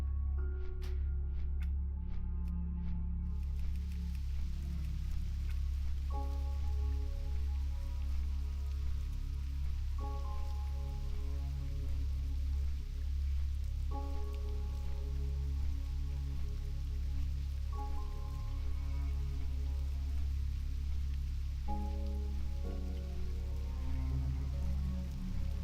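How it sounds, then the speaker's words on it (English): Soft, steady rain falls in World of Warcraft Classic beneath a deep low hum, while short chiming game tones repeat at intervals and a brief bright jingle opens the stretch. "that was cool how that rain just kind of crept in"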